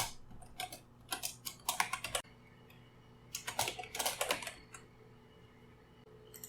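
Code typed on a computer keyboard in two bursts of quick, close key clicks, separated by a pause, with a faint steady hum beneath.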